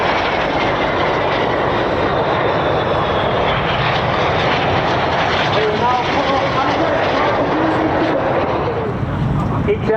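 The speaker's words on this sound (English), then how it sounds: "Each aircraft now pulling up at about 5G" Red Arrows jet aircraft pulling up together at about 5G during an air show display at Bournemouth, a loud continuous engine roar filling the whole stretch, with a commentator talking over it.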